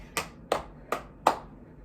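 Four crisp, evenly spaced hand claps ring out one at a time during a musical theater dance routine. Each is sharp and close, with brief quiet gaps between them.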